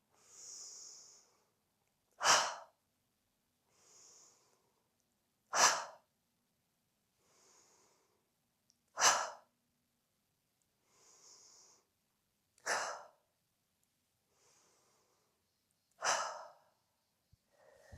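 Slow relaxation breathing, heard alone and close: about five rounds of quiet, airy inhales, each followed by a louder, breathy exhale, spaced evenly a few seconds apart.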